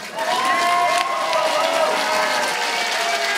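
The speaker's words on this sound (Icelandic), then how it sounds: "Dömur mínir og herrar, gefið Antoni gott klapp." An audience at a fight event claps and cheers for fighter Anton, a dense, loud wash of applause with shouts rising over it, sustained throughout.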